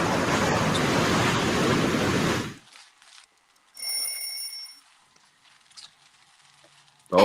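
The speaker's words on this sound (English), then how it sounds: "It's ocean waves crashing." Broadband ocean waves crash loud and steady for about two and a half seconds, then cut off abruptly, leaving near silence broken by a faint whistling tone.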